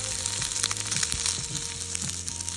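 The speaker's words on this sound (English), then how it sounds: "Did you enjoy that ASMR of the food sizzling?" Beef cooking at a Japanese hotel, a steady close sizzle scattered with small pops and crackles, with no one speaking.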